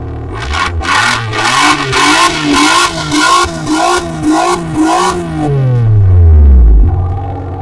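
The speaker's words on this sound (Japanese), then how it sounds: "今度は排気音です。" Exhaust note of a Suzuki Wagon R with a K6A engine accelerating through a run of rapid revving pulses, then a long falling drone as the revs drop away, loud and close, with no talk.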